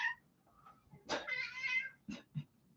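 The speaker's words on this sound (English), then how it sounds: "Oh, the cat is joining." A house cat meows several times indoors, with one short cry, a longer drawn-out meow and a few softer chirps, fairly close and clear with no talk over it.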